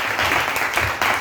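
Church congregation applauding during a French-language sermon, a dense, steady burst of many hands clapping together, close and filling the whole moment.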